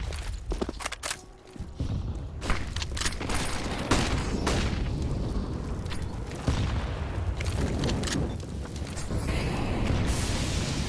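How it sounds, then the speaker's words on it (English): Grenades going off in a Counter-Strike match on the Vertigo map, a dense stretch of booms and gunfire with footsteps and clatter, loud and continuous throughout. "Nades. Good nades at that."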